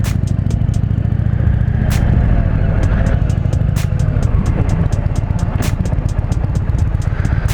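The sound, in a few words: 2020 Indian Challenger motorcycle riding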